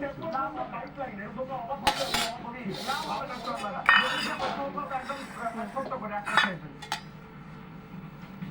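Mango dal being served into a bowl, with spoon and dish clinks and scrapes ringing out repeatedly beneath someone talking throughout.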